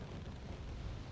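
A bombing run in the Wargame Red Dragon video game, a low muffled rumble of distant explosions rolling continuously for a moment, faint and deep.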